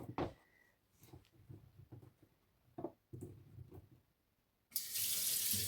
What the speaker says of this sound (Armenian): հոսող ջրի տակ,